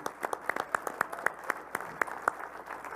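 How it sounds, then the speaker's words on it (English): After a Pennsylvania governor debate at the Blair County Convention Center in Altoona, a small audience applauds with sparse, individually distinct claps that land in a loose rhythm at moderate distance. "a round of applause for our moderator, Chairman Tavis, and timekeeper Joel Seeley."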